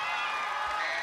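High school students in a studio audience clap and cheer together, a dense, steady wash of applause and shouts at close range lasting about a second.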